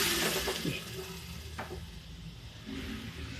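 Smoky tadka sizzling and crackling for a chana dal fry, a steady close frying hiss with brief stirring clatter, no talk over it.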